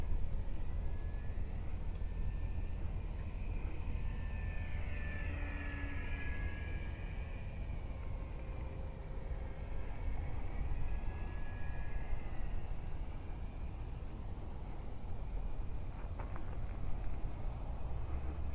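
A small Hobbyzone Apprentice STOL S RC airplane with music wire landing gear flies outdoors, its thin electric motor whine rising and falling in pitch as it passes at moderate distance over steady broadband wind noise.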